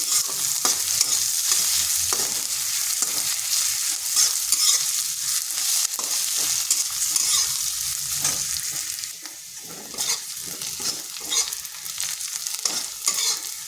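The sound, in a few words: frying sliced onions in a pan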